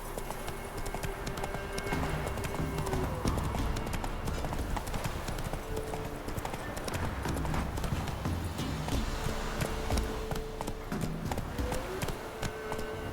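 Horse hooves clip-clop in a steady trot from The Witcher video game, continuous and fairly close under game music and ambience, with a brief whinny possible.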